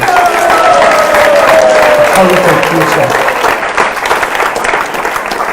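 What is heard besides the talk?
audience round of applause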